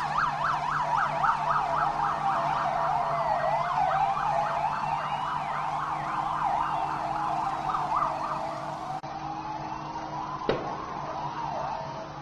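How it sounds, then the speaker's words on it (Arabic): Ambulance sirens in Jenin wail continuously in a rising and falling pattern as the vehicles head toward hospitals, loud and steady, before the sound cuts away to quieter street noise with a single sharp knock. "هذه سيارات الإسعاف تتحرك باتجاه المستشفيات"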